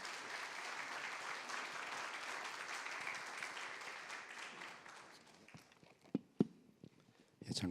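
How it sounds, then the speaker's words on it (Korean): A church congregation claps together to welcome the pastor at a March 1st memorial service, the steady applause fading after about five seconds into scattered claps, thumps and light movement. "목사님 나오실 때 박수로 환영해 주시겠습니다."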